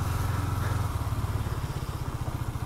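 KTM Duke 250 motorcycle being ridden off-road near a bridge, its engine giving a steady, loud, close throbbing drone with a pulsing rhythm that picks up slightly partway through, with no talking.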